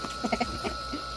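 A chicken clucks in a few quick, soft bursts close by, with a faint steady hum in the background.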